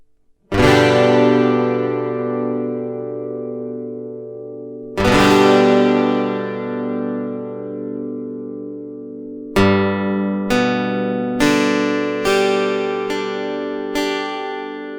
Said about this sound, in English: I'll just switch the audio and show you how the guitar sounds through the pickup.